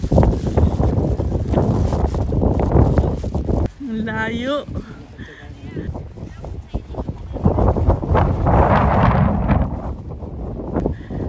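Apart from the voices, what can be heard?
strong wind on a mountain top by the sea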